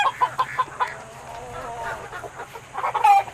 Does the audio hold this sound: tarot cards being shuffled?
no